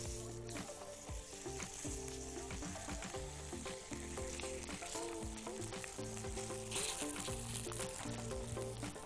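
A burger bun frying in butter in a pan gives off a constant crackling sizzle, close and fairly loud, with dense spitting pops running throughout and no voices.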